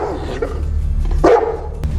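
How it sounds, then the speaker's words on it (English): A dog barks nearby, a couple of gruff woofs, the loudest around the middle, over a low rumbling background. "Alerted by his barking dog, Swagger is alerted as the men approach his cabin."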